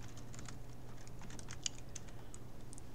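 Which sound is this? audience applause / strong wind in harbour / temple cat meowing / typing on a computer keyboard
typing on a computer keyboard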